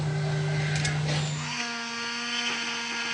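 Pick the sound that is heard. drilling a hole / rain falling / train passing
drilling a hole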